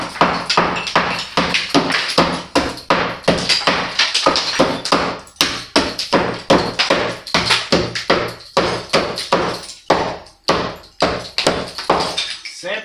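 A hammer breaks up a brick wall in steady, rapid, loud blows, sharp close knocks repeating with brief gaps throughout.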